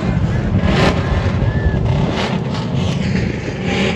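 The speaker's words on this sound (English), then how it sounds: "Start your engine!" Race cars at Mobile International Speedway starting and revving their engines, a dense, loud engine roar with rising and falling revs throughout, with crowd and announcer noise mixed in.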